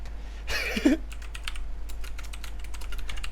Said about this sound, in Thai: พิมพ์ข้อความว่าช่องผมโดนแฮก